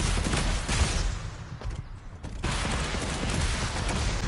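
Gunfire in a video game: a continuous, dense rattle of shots filling most of the clip, dipping briefly in the middle before resuming at full loudness.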